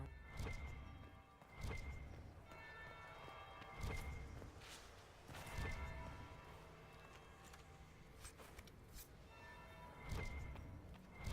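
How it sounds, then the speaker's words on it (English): A bell ringing: several resonant strikes a couple of seconds apart that linger and fade, heard at a distance over a steady, busy ambient background. "That would be the second bell."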